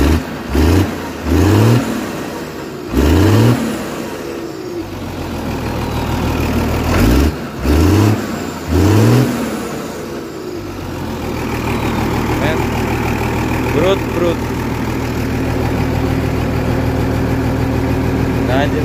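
Valmet 118 turbo tractor engine with no attachments, gunned in several sharp revving bursts, then settling into a steady rough idle with a few more revs, close and loud, with occasional voices over it.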